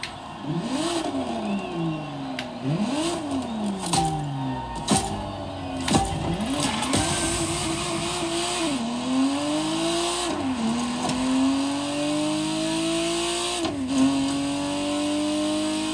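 A Ferrari Testarossa in The Crew Motorfest racing game revs hard through repeated rising gear pulls, each climb ending in a shift, with a steady loud engine drone and faint tire noise throughout.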